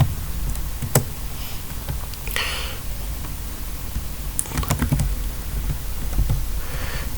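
Typing on a computer keyboard while entering trigonometric identities in LaTeX, a continuous stream of close, uneven key clicks with a few sharper taps over a steady background hiss.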